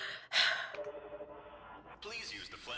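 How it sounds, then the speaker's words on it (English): A loud, breathy exhale at the start, then quieter breathing and murmurs from a Five Nights at Freddy's 2 fan remake game. A harsher burst of breath-like noise comes near the end. "It's like rapid heavy breathing"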